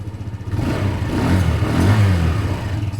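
A salvaged Honda PS125 moped engine runs steadily close by, a loud continuous mid-pitched drone with slight revving swells throughout and no talking.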